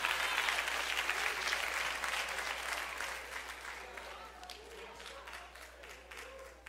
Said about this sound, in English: My claps are getting less and less